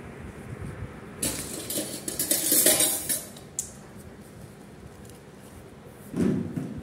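Mutton box biryani from Nagore is tipped into a metal vessel, with clattering bursts of metal against metal and soft pouring rustles, the loudest cluster in the middle and a final knock near the end.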